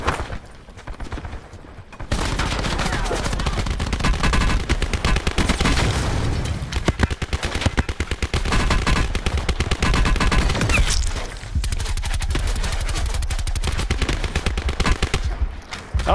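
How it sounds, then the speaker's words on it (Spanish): Gunfire in Call of Duty Blackout, dense sustained automatic bursts and overlapping shots roaring almost continuously after a quieter opening, with brief lulls between the volleys. "El diablo, ya está tirando tiros."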